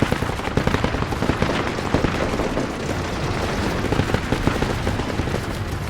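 Sustained machine gun fire in the military video game Project Reality, dense rapid bursts of shots at close range with no talk over them.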